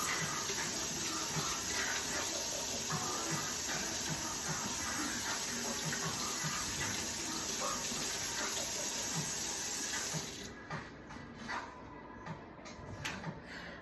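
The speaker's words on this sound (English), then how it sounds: "First you want to wash your hands. With the soap of your choice." Hands being washed with soap under a running tap: a loud, steady rush of water close by that thins out near the end into lighter splashing and trickling.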